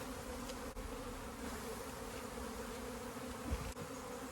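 Honey bees from a colony with a laying worker buzz around the hive in a steady, dense drone heard close up, with no talking.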